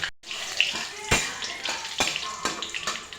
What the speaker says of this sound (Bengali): তাহলে এখানে গরম হয়ে গেছে, দিয়ে দিলাম শুকনো লঙ্কা আর কালো জিরা সম্বার